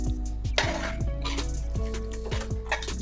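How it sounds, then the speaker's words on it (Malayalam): Cooked beef is stirred into biryani in a metal pot, with a string of scraping, clinking utensil strokes against the pot in an irregular rhythm, close and fairly loud, with no talking. "നല്ലോണം ചേർത്ത് ഇളക്കി"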